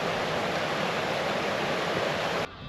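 Rushing water of the Black Clough waterfall and stream in the Peak District roars as a loud, dense, steady wash of noise, then drops abruptly to a quieter level at the end.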